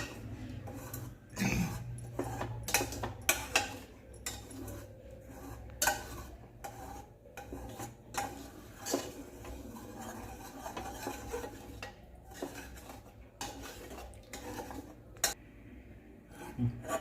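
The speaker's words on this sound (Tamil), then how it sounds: "இதை நம்ம ஒரு கரண்டி வச்சு மசிச்சு விட்டுக்கலாம்" A metal ladle mashes cooked lentils in a pot in uneven, repeated strokes, soft squelching and clinking close by.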